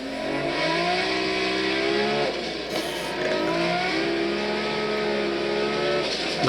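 A Toyota Supra on its best tires accelerates hard, engine climbing through rising revs with a brief shift break midway, then pulling up again, loud and close throughout.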